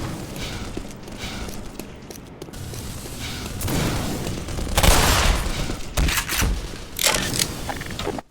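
An automated turret firing in the video game Black Mesa, with rapid bursts of mechanical gunfire and clanking, building to louder volleys and booms in the second half.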